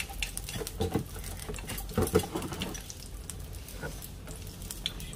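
White cooking oil added to a hot pan sizzles and spatters for a Bengali country chicken dish, a close, moderately loud crackle with stirring taps that fades slightly toward the end.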